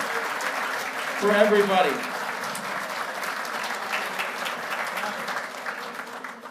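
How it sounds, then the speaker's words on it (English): A ceremony audience at the 100 Club of DuPage County Award of Valor event claps steadily for honorees, moderate and continuous, with a voice speaking briefly over it near the start. "Give a round of applause"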